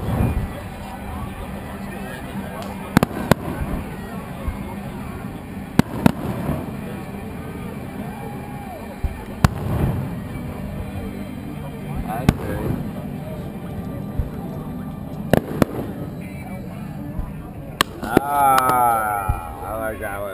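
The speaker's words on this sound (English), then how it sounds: "No, somebody just shot up flares." July 4th fireworks over Santa Barbara with parachute flares, distant booms and crackling pops scattered irregularly under the chatter of nearby onlookers and a murmuring crowd.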